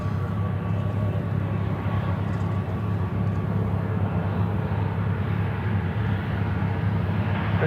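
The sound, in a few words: Boeing 737 airliner engine noise at Charlotte airport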